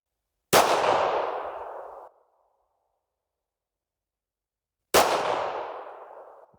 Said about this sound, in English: First time shooting a 1911.